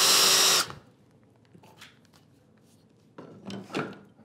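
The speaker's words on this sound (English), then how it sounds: "We're going to drive those screws into there." A drill drives screws into a wooden workbench drawer, one loud close whir of the driver that cuts off abruptly, followed by quieter handling and rubbing noises.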